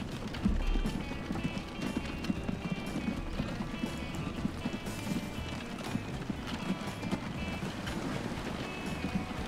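Steady clip-clop of a horse and cart in the Transport Fever video game, a continuous rapid hoof rhythm under a busy layer of ambient game sound.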